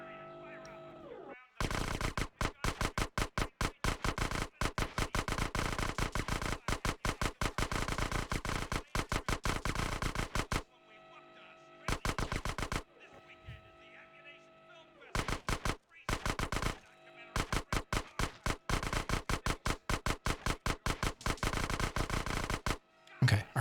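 An SMG fires in GTA San Andreas on PS2: loud, rapid bursts of automatic shots, some long and sustained, others short and clipped, broken by brief silent pauses and a steady background hum.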